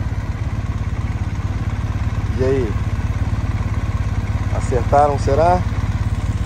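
A motorcycle engine idles with a steady low throb outside a motorcycle dealership, loud and close, while someone talks over it.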